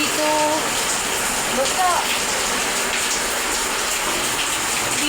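Rainwater dripping and streaming through a leaking roof during a typhoon, a steady wash of rain and running water throughout with people talking over it.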